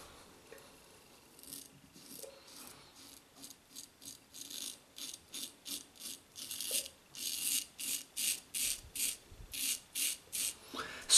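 A GEM Micromatic open comb single edge razor shaves stubble in a rapid series of rasping scrape strokes, close and quiet at first, then growing louder and more regular.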